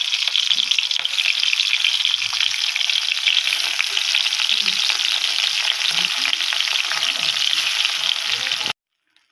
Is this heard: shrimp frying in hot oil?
yes